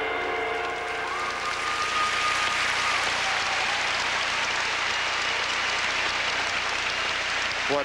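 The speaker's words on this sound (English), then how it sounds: "What might best be judged lukewarm applause from the audience for Peter Barna" Lukewarm applause from an audience of about 9,000 at the 1992 Winter Olympics men's figure skating free skate: a steady, dense wash of clapping throughout, with a faint tonal whistle early on.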